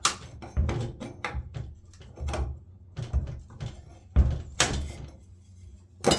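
A piece being pried out of a glass-panel door during a repair, a series of close knocks, creaks and scraping thunks at an uneven rhythm, with one sharper scrape near the end.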